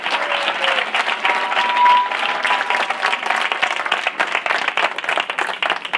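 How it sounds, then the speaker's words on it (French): Loud, dense applause from an audience at a 24-hour innovation event, sustained clapping filling the whole stretch with a close, busy texture and no talk. "Alors, un petit applaudissement"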